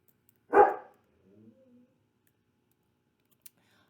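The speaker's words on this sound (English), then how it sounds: "I apologize for my dog in the background" A single sharp dog bark close by in a quiet indoor room, followed by a faint low whine or grumble and then silence.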